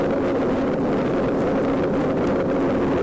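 Steady wind roar buffets the microphone while cycling at speed on a rural Dutch road with a tailwind, a constant low rushing noise filling the whole stretch with no talking.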